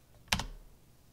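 Two quick keystrokes on a computer keyboard, a close double click while entering a terminal command, with faint room noise around them.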